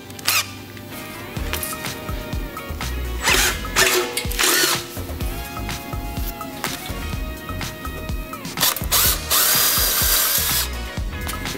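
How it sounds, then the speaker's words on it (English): Power drill with a 3/16 inch bit widening pilot holes for a fuel sight gauge fitting: repeated bursts of close, loud motor whine and grinding bite, broken by short pauses between passes, with no talking. "And I'm gonna open it up with like a 3/16 bit."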